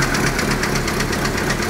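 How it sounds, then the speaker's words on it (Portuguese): A 1995 Chevrolet Monza's engine runs with a knock, a steady, close, loud mechanical clatter of rapid regular beats over a dense rumbling drone, with no talking. "Tá com o motor batendo."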